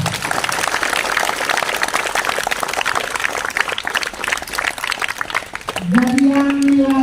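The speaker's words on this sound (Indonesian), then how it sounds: "Tepuk tangan untuk mereka." A crowd of students claps together at a school Pramuka scout anniversary opening assembly, with dense, steady applause for about six seconds before a voice starts speaking over it.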